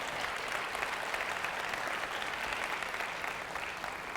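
An audience at a business summit breaks into sustained applause, a dense, even wash of clapping lasting a few seconds with no pauses.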